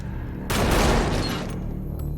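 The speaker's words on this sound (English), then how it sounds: "Oh no, they're shooting people." Gunfire erupts in Metal Gear Solid V: The Phantom Pain, a sudden loud burst of overlapping shots and blasts that hits after a brief quiet start and then rumbles on at a slightly lower level.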